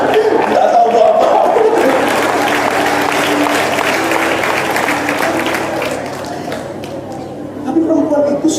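A church congregation claps during a sermon. The applause is loud and dense at first, then thins, and a voice talks over it.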